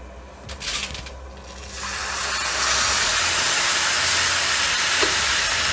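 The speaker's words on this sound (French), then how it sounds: "Là, je vais juste mouiller avec le bouillon." Broth poured into a hot pan of pilaf rice cooked for devilled squid (calamar à la diable) sets off a loud, steady steam hiss that builds after a few soft clatters and holds evenly to the end, with no talk.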